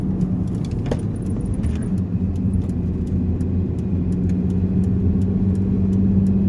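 A car's mid-sized engine runs steadily close by as the throttle is opened again, its low hum rising slightly toward the end, with light metallic ticks above and no talking.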